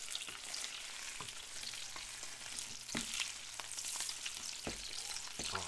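Food sizzling and frying steadily in a hot pan right after being flipped, a dense continuous crackle with scattered sharper pops and a few scraping clicks, close and fairly quiet with no talking.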